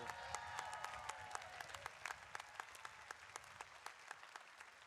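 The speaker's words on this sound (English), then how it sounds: "Please give them a big round of applause for the work they've done with you." An outdoor commencement crowd claps for graduating science and mathematics students, a sustained wash of applause with distinct sharp individual claps standing out, fairly distant and moderately faint.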